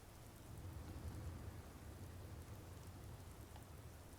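Steady rain pours on a surface outdoors while a low thunder rumble rolls underneath, a continuous wash of noise with no voices.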